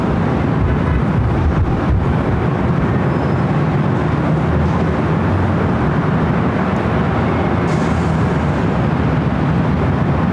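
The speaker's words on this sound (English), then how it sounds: "737-800 taking off to Seattle" A Boeing 737-800 takes off at LAX, its steady, loud broadband engine roar holding without a break from start to finish.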